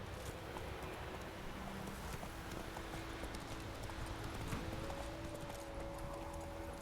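Hooves of Roach, a horse in the video game Witcher 3, clip-clopping in a quick steady rhythm, fairly faint under ambient game wind and a sustained musical tone.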